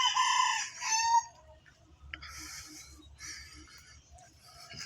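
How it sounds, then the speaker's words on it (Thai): A rooster crows loudly nearby in the opening second, followed by softer bird calls and chirps against a quiet orchard background. "มีเสียงไก่ขัน มีเสียงนกร้อง"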